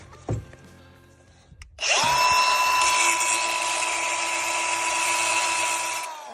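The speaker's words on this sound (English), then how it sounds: "we need to grind down this stud so we can get this nut off" A grinder bites into a tie rod stud, starting after a few brief knocks with a loud, steady high-pitched whine that holds for about four seconds before easing slightly at the end.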